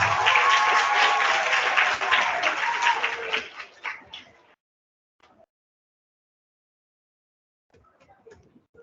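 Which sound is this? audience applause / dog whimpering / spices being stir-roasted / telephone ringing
audience applause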